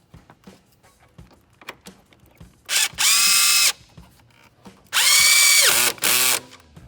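A ratchet tightening a very long airbox bolt during a cold air intake install on a 2011+ Dodge Charger: quiet handling clicks, then three loud, close bursts of whirring tool noise about a second each.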